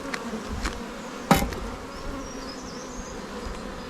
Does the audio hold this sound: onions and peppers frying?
no